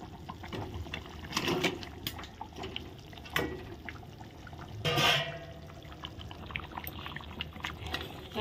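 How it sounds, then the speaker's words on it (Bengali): Fried heads of a large boal fish drop into boiling, meaty gravy, giving a few splashy, sizzling bursts over a steady bubbling simmer. No one speaks. "এখন ভেজে রাখা মাছের মাথাগুলো সব দিয়ে দেবো।"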